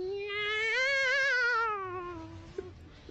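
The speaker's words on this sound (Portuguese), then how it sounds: "Você espantando com o grito do gato." A cat lets out one long, drawn-out wavering scream lasting about two seconds, loud and close, tailing off into a faint knock.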